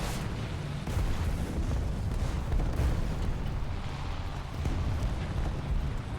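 A tank in War Thunder fires its cannon amid constant battlefield rumble, heavy booms and low engine roar sustained throughout, loud and close.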